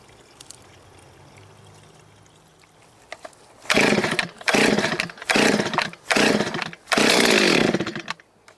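Chainsaw being pulled and revved in five loud bursts after a quiet stretch, starting up to cut ash firewood; the engine roars close by in separated surges with brief gaps between.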